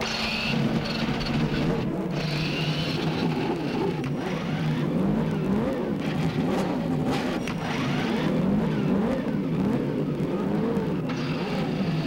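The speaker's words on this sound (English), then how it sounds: "Gentlemen, start your engines!" Several CART Indy-style race car engines fire up and rev on the grid at Michigan in 1992, a loud, dense, continuous roar with rising and falling revs and no talk over it.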